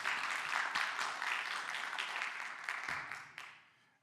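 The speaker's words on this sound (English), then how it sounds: "let's give Shawn a rousing applause for her hosting" A TEDx audience at a college event applauds the host, steady dense clapping that continues evenly at moderate level, then thins out and fades away toward the end.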